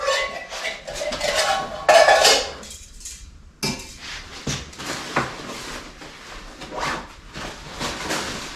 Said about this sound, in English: the larger canteen, the 32-ounce canteen, a nesting cup with the lid